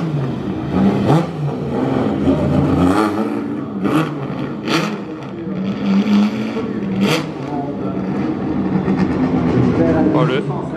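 Engine noise rises and falls as vintage sports cars, including a Ferrari 250 GTO, pass at a concours d'elegance in Monaco, with sharp revving bursts, over a crowd and voices talking nearby.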